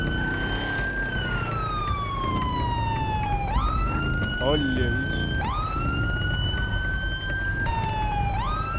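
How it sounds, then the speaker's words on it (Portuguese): A police car siren in GTA 5 roleplay wails loudly and continuously, sweeping in long rising and falling tones over engine rumble, while someone speaks briefly. "Ah, vou ligar a sirene pra resolver."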